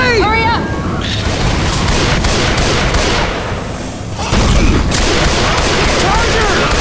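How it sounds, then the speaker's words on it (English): A grenade explodes in the zombie shooter Left 4 Dead 2 amid dense gunfire and booms, the dull thud landing in the middle of continuous chaotic combat noise while characters shout over it. "Look out! Grenade!"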